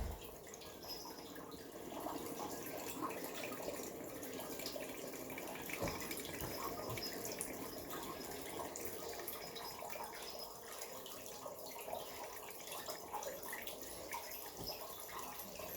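Water pours steadily to rinse raw pu-erh tea leaves, a continuous soft splashing trickle with faint drips, fairly quiet and close, with no voices.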